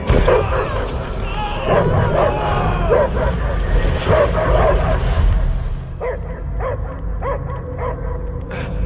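Dog barking and whimpering in the Guardians of the Galaxy video game, repeated yips and barks mixed under game voices and music, with a quieter stretch of sparse barks near the end.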